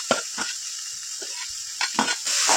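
Chopped onions hit a hot pan with mustard seeds and green chili, giving a steady sizzle of frying broken by a few scraping stirs of a spoon and a louder burst of crackling near the end.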